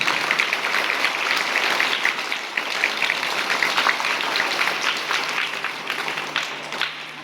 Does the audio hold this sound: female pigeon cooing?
no